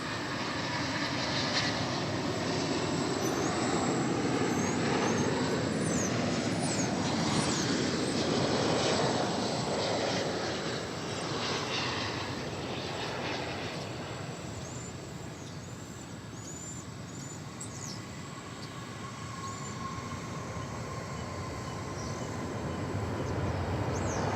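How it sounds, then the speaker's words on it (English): An American Airlines Boeing 777 on a long-haul flight from Maui lands at DFW Airport, its broad jet engine roar sustained and fairly loud throughout, swelling and easing as the aircraft passes. "we've got some aircraft coming in here, the first of which is American Flight 116 from Maui, a 777"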